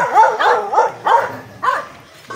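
Dogs bark close by in a mountain area, about five loud, yelping barks in an irregular series with short pauses between them.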